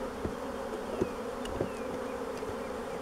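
Honeybees being shaken from a frame into a hive buzz in a steady, dense drone, fairly faint and close, with a few soft thumps and no voices.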